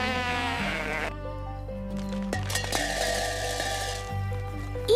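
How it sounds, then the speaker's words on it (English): Sheep bleat in drawn-out wavering calls on a farm while eating apples, several cries in succession over low background noise and faint clinks. "the sheep are eating apples"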